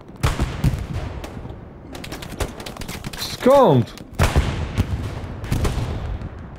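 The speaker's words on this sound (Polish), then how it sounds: "tylko normalne, zwykłe pojedyncze strzały i tak walili nas." Single gunshots in the console shooter Hell Let Loose on PS5, several sharp cracks spaced irregularly, mixed with a whooshing effect and a brief spoken word from a player.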